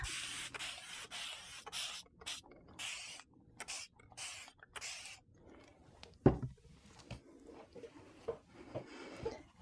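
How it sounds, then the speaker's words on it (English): A spray bottle misting a paint inlay piece, with a rapid series of short hissing sprays in the first half followed by quieter rubbing and handling sounds. "let's mist this."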